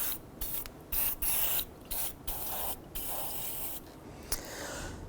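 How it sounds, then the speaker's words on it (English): Rust penetrant sprayed from an aerosol can onto a rusty lower ball joint of a 2005-2007 Jeep Liberty, a series of close hissing bursts of varying length with short gaps between them. "we're going to start by generously applying some rust penetrant"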